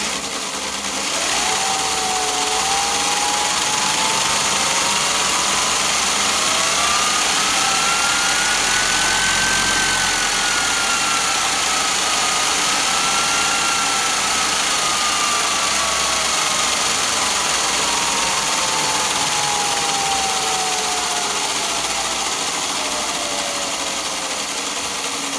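An 8000 W, 48 V electric go-kart motor spins freely, whining steadily, its pitch rising slowly to a peak and then gradually falling, over a constant loud mechanical hum with no talking.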